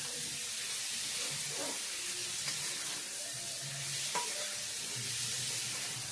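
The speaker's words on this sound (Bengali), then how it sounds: "হলুদ গুঁড়ো লঙ্কা গুঁড়ো সব ভালো করে আলুর সাথে নাড়িয়ে চাড়িয়ে ভালো করে মিশিয়ে নেব" Potatoes with turmeric and chili powder are stirred in a hot pan for khichuri. A constant sizzle runs throughout, with soft scraping strokes of a spoon now and then.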